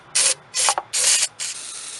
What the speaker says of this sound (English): I'm going to spray some brake cleaner right in here.